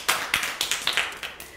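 A class of pupils claps together for a classmate, about eight sharp, evenly spaced group claps in a quick steady rhythm, close and fairly loud, with no talking.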